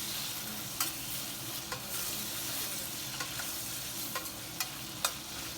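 Vegetable pieces for sambar are stirred as they fry in oil, giving a steady close sizzle with several crisp spoon scrapes spaced through it, no voices.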